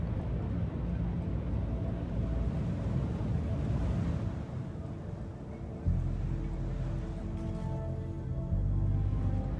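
A spaceship landing in the video game Star Citizen, heard as a dense, steady engine rumble and roar that shifts in pitch and level partway through, loud and continuous with no talk.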